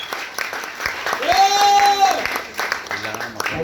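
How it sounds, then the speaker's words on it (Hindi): An audience gives loud, sustained applause at an event as a guest is called up, with a host's amplified voice speaking over the clapping. "जोरदार तालियों के बीच हम बुलाते हैं भरत सागला जी के लिए"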